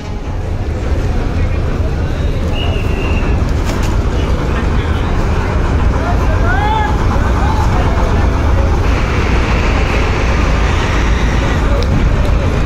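Passenger launch MV Manami's engine speeding up on a river, a loud, dense, steady rumble with water rush, continuous and close throughout, with voices faintly mixed in.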